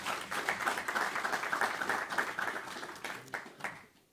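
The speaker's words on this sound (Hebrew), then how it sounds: "מגיע לו כפיים לצדיק הזה" An audience applauds a congregant at a religious lecture with steady, fairly distant clapping that holds for a few seconds and then thins out and fades away.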